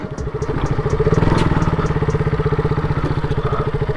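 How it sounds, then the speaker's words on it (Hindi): A motorbike engine chugs in a fast, steady pulsing beat as it rides along a wet, waterlogged road, loud and close, with faint crackles of tyres over water above it. "बाइक का टायर पता स्लिप कैसे कर रहा है।"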